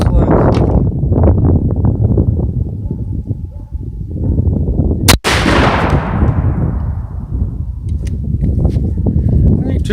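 One sharp, loud blast from a 20-gauge shotgun firing a slug outdoors, cracking midway through a long stretch of rough background noise and rustling.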